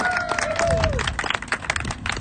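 An audience at a US Senate campaign rally in Springfield, Massachusetts, applauds in a dense, continuous patter, with crowd noise and a faint murmur of voices underneath.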